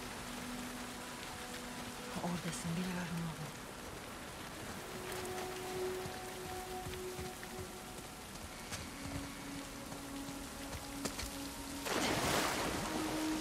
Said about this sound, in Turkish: Yağmur biraz daha gürültüyü bastırıyor ya. O adamlar ne yağmur grafiği yapmışlar ya.